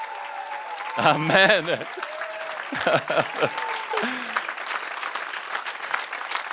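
Church congregation applauding during a lively service, the clapping rising and holding steady as a broad wash under singing and a voice speaking over it.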